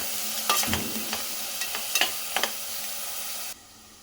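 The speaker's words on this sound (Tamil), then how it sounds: "நல்லா வதக்குங்க." Finely chopped mint and coriander sauté in a pan with an even sizzle and a few crisp spatula taps, before the sound drops away abruptly near the end.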